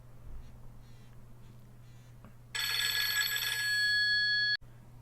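An old-style electric telephone bell rings loudly indoors, a bright metallic clattering ring that starts suddenly, holds steady for about two seconds and then stops abruptly over a low room hum.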